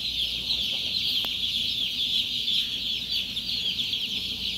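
Many chickens on a farm in Taiwan cluck and chatter together as a dense steady flock murmur, with a constant shrill insect-like drone running over it throughout.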